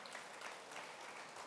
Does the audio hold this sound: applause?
yes